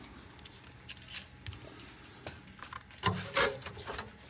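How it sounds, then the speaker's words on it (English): Scissors snip small pieces of material for a body fix on a model vehicle, giving quiet scattered cuts with a louder rustling burst near the end, close up and without speech. "So I'm just gonna cut some little pieces"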